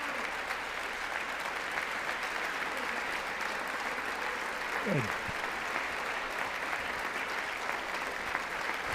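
Sustained applause fills a large hall at the 2025 State of the Union address, a dense steady wash of clapping from a big crowd with a brief spoken word partway through.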